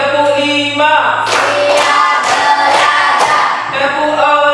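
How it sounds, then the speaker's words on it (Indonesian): Students in a classroom clap in unison to a count, giving a run of five crisp, evenly timed group claps mixed with a voice calling out the beat. "Tepuk 1, tepuk 2, tepuk 3, tepuk 4"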